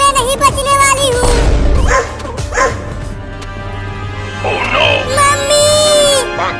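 A dog in a Hindi cartoon barks and yips in a few loud bursts early on, then whimpers over music and sound effects, with a voice briefly heard.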